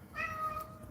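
A cat gives a single clear meow lasting about half a second, close and fairly loud over a soft background hum, with no talking.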